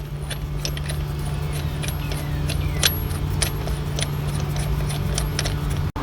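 A metal bolt is run back in on the harmonic balancer of a Toyota Camry 3.0L V6 engine, with scattered light metallic clinks and ratchet-like ticks over a steady low hum, ending in one sharp clunk.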